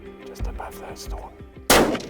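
A single loud rifle shot fired while hunting a bull in the African Karoo bush, sharp and close, preceded by a few soft rustles and thumps.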